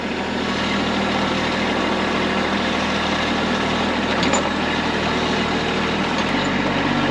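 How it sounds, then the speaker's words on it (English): A tractor engine runs steadily at close range for the whole stretch, a dense continuous rumble with a low drone that shifts slightly near the end, and no talk over it. "driving the tractor sure is fun"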